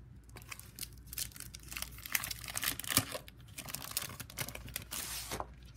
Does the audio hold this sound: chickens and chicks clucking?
no